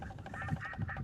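A duck quacking at daybreak during a duck hunt in Armenia, a few short nasal calls close by and fairly faint.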